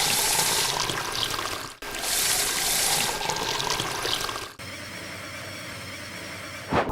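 Water rushes steadily from a long hose on a LEGO watering train, a loud, close, continuous hiss that briefly cuts out twice and then resumes at a slightly lower level.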